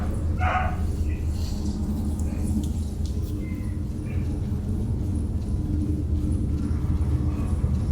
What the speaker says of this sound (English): Barking dog in the courtyard.